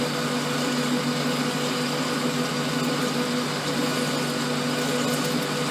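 A lathe parts off a metal shaft with a cutting tool fed in slowly, bit by bit, giving a steady, unbroken machine hum with faint high grinding through the whole stretch, close and constant with no talk.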